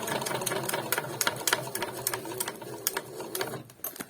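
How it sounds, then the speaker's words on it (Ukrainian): A bag-closing sewing machine stitches through thick big-bag material in a rapid, mechanical clatter with sharp ticking bursts, close and fairly loud, without speech. "Зверху бігбеговська мішкозашивочна товщину проходить без питань."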